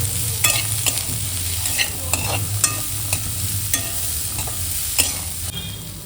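Chickpeas tossed with salt and a pinch of turmeric in a pan, stirred with repeated scraping strokes of a spoon over a steady low hum of frying, close and fairly loud, with no voices.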